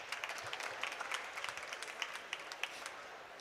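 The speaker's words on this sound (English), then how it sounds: "Can we give her a round of applause?" Audience applause at a COP27 Africa Pavilion presentation, soft and distant, a steady patter of scattered clapping with occasional sharper claps throughout.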